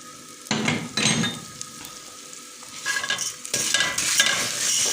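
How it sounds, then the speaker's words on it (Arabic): Vermicelli being stirred and fried in oil with fried onions for Egyptian koshari, a steady sizzle broken by scraping stirs in the pan, close and clear with no talk. "هنا بقى هنزل بالشعريه هنا كده بالزيت"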